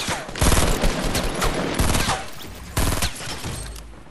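Rapid bursts of automatic gunfire in Fortnite, with players shooting down a built ramp, come in close, dense volleys with brief gaps and a few cracking impacts.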